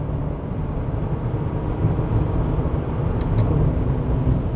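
Cabin drone of a Maserati Levante Hybrid heard from inside while driving, a loud, steady low rumble of engine and road noise that holds throughout, with a couple of faint clicks near the end and no talk.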